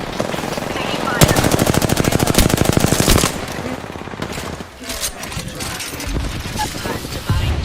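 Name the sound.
gunfire in a video game shooter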